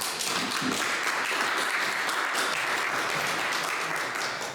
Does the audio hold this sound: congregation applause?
yes